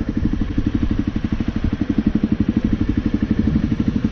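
A trail motorcycle idles on an island road trip, a close, loud, rapid regular thumping pulse of the engine running steadily with a faint clattering edge.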